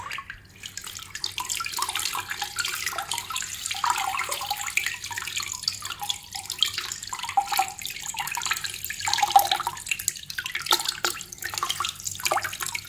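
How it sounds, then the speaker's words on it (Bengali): Water is poured in a steady splashing stream over a Tasslight Rigid Pro light, a continuous rushing wash that holds roughly even in loudness from start to finish, with no voices. "পানি ঢালেন"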